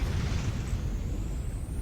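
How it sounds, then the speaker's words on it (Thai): A deep, rumbling explosion roar in the video game Fractured Space fills the clip, a dense low boom sustained without a clear sharp attack, with no voices. "เฮ้ยนี่มันระเบิด"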